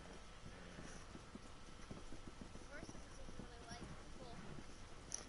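Horse hooves clip-clop in a PS4 video game, a quiet steady patter of hoofbeats running under background game noise for several seconds.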